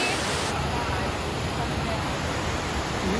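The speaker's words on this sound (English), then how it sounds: "Usually rushing water." Water rushes steadily beside a mountain road, a dense, constant broadband roar that stays level throughout.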